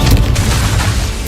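The Confringo blasting spell goes off in Hogwarts Legacy as a loud, dense booming burst that fills the whole short moment with explosive crackle.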